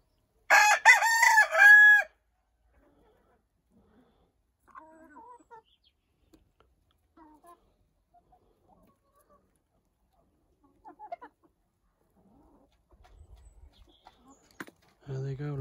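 A rooster crows once loudly near the start, followed by long quiet stretches with soft scattered clucks and movement from chickens gathered at a feeding trough, and a brief low voice near the end.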